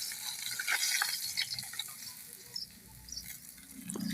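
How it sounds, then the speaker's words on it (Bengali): Fish fries in oil in a pan with a fairly quiet, uneven crackle and patter of popping spatters, a few louder bursts among a softer sizzle, with no voices. "সব মাছগুলো আমার ভাজা হয়েছে"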